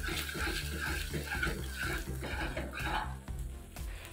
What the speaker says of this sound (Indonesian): Kemudian tuang air putih